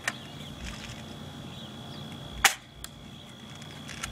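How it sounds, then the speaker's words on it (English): An M4 airsoft gun at an indoor shooting range fires a single sharp, close snap of a pellet shot, followed by a fainter click, set against a steady hum of background noise. "That was the M4 Airsoft."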